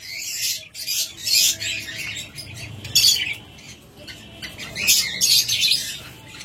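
A flock of budgerigars chirps and squawks in bursts nearby, the bright chatter rising and falling in uneven waves over a low background hum.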